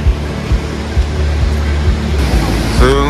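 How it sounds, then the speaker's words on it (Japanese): Fukiware Falls roars steadily with a broad wash of rushing water, loud and continuous, while people talk close by over it. "吹割れの滝がこちらだ"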